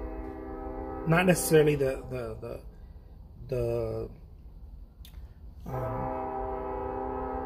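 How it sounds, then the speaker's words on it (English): A train horn sounds in long steady blasts from a distance, with a pause between them, mixed with someone speaking indoors. "stupid train"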